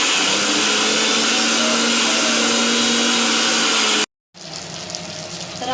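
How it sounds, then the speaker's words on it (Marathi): A mixer grinder whirs loudly while grinding spice masala for a vam fish curry, a steady high motor roar for about four seconds, then a brief stop and a quieter restart. "हे फ्राय होईपर्यंत मी मसाला मिक्सरमध्ये वाटून घेत आहे."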